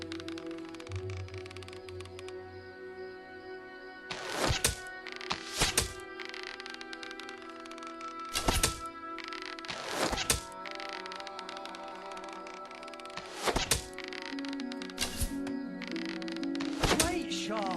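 An arrow striking a target in Fable Anniversary, heard as several sharp, loud thunks at uneven intervals over a steady tonal game soundtrack.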